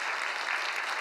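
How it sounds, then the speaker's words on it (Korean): Congregation applauding at a church retreat service, a dense, steady wash of many hands clapping at moderate distance, continuous for the full second with no talk over it. "박수하겠습니다"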